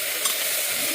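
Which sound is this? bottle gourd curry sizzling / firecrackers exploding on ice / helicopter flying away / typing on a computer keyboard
bottle gourd curry sizzling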